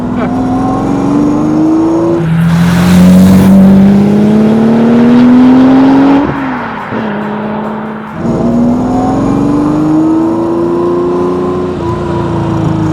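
A 400 bhp E-type Jaguar restomod with a 6.1-litre V12 accelerates hard, its loud, smooth engine note climbing in pitch, dipping through quick gear changes, then rising again up close.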